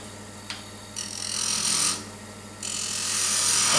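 A skew chisel cuts decorative texture into spinning wood on a lathe, making bright rasping bursts over the steady low hum of the machine, with one short cut, then two longer passes and a brief pause between them.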